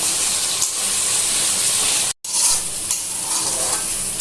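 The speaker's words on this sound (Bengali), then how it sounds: "মশলাগুলো ভালো করে কষিয়ে নিয়েছি।" Spices fry and get stirred in a pan for a Bengali-style chicken curry, giving a loud, steady sizzle and hiss with scraping stirs. The sound is broken by a brief cut near the middle.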